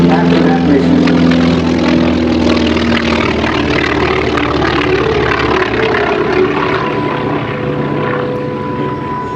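A T-28 Trojan propeller airplane performing at the 2017 Chambers Field Centennial Air Show, its radial engine droning loud and steady with a low rumbling tone that slowly fades slightly as it passes, while a voice speaks over it.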